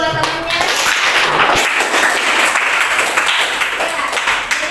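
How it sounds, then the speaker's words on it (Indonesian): Applause for a classmate in a classroom lesson, a dense burst of many hands clapping together, loud and steady throughout, with no talking over it. "Beri aplaus dulu buat temannya."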